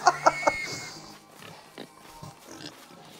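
Pig oinking in GTA 5 Online: a quick string of three short grunting oinks up front, followed by softer scattered game noises and faint background sounds.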